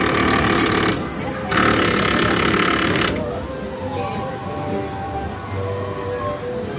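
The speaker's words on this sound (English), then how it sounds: "it actually vibrates like a jackhammer" A loud, harsh, rapid vibrating rattle like a jackhammer comes in two bursts from a push-button effect at Universal's Islands of Adventure. It then gives way to a lower mechanical hum.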